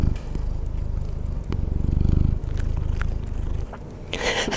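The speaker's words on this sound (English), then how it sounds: "Let's see if we can hear the purrs." A cat purrs low and steady close by, continuous, with a few soft rustles and a brief scratchy shuffle near the end.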